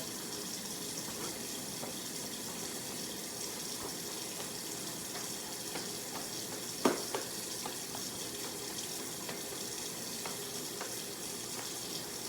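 Water from a sink tap running steadily while hands are rinsed, a constant close hiss with one brief splash near the middle, no talking.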